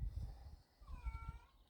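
A single drawn-out cat meow rises and falls in the background of a calm yoga and meditation session, faint over a low steady rumble.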